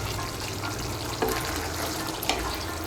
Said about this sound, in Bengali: ঘিটা ভালো করে মিশিয়ে নেব।